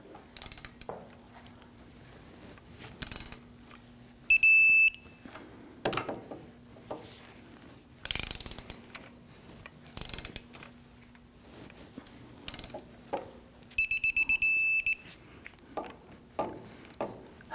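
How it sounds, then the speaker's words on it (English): Torque wrench tightening wheel hub bolts to 98 foot-pounds on a 2010-2019 Ford Taurus during a front hub and bearing job, with sharp metallic clicks, ratcheting and clanks in separate close bursts over quiet background. No one speaks. "We're now going to go ahead and torque down the bolts here to 98 foot-pounds."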